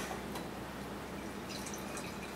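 Filtered Sierra Nevada Atomic Torpedo Double IPA is poured into a glass, a faint, continuous liquid trickle with a few soft drips, quiet and alone.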